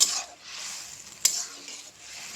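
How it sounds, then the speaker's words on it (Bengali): A spoon stirs pineapple dal in a pan over a low flame, giving a soft steady scrape and faint sizzle, close and alone, with one sharp clack of utensil against the pan midway. "ডালটা একদম লো ফ্লেমে রেখে এভাবে নাড়তে হবে যতক্ষণ না আনারসের থেকে জলটা শুকিয়ে যাচ্ছে"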